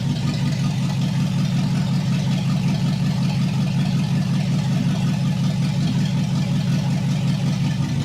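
The V8 of a 1959 Ford F100 truck idles steadily with a low, throbbing exhaust rumble, loud and close, unchanging throughout with no voices.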